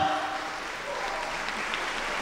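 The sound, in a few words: audience applause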